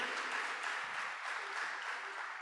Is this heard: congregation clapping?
yes